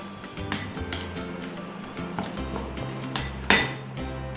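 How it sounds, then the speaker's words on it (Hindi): Spice ingredients and black pepper powder being mixed in a bowl for a bread pizza topping, with steady close clinks and scrapes of a utensil against the bowl and one sharper knock near the end. "अब ये सारी चीज़ों को मैं मिला दूंगी।"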